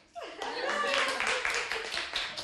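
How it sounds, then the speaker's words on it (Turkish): Clapping from a group of children and adults at a Turkish gathering for a young autistic boy, a steady patter of many hands with voices and chatter mixed in throughout. "Alkışlayın."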